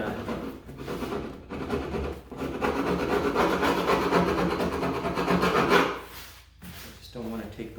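A chisel scrapes old felt residue off the wooden back rail of an aged Steinway piano, giving a steady close rasping rub that runs for several seconds with brief pauses and a short break near the end.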